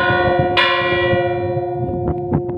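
Fully swinging church bell in Trébago, Soria, ringing volteo style: a strong clang early on, then several lighter strokes late, all over a sustained shimmering hum of overtones.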